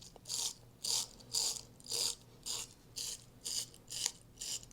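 A tool scrapes carbon from inside a Surefire suppressor in nine regular, evenly spaced rasping strokes, close and moderately quiet, with no one speaking.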